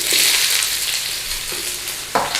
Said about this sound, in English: Flame on, not too high. In with a little bit of oil. In with some garlic. In with some onions.